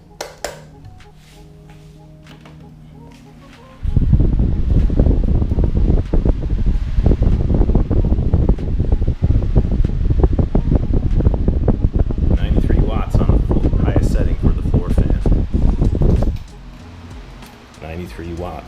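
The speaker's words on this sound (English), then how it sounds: "Let's plug in a floor fan, see how many watts that pulls." A floor fan plugged into a power meter runs with a loud, steady broadband whoosh for most of the clip, starting and stopping abruptly, with quieter room hum before and after.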